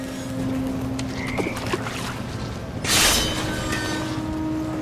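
Toads croak in the video game What Remains of Edith Finch, a steady layered chorus of ambient croaking with a brief louder burst partway through.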